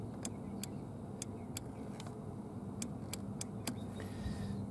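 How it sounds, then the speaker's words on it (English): Repeated sharp clicks from a throttle body switch on a dbilas dynamic ITB setup fitted to a BMW E30 with the M20B25 engine, about ten irregular ticks close up over a steady low engine or road hum. "Let me see if you can hear it switching."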